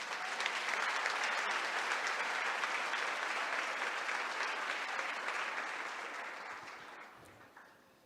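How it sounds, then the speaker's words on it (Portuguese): A church congregation breaks into strong, dense applause that stays full for several seconds and then gradually fades out toward the end. "Você pode aplaudir o Senhor?"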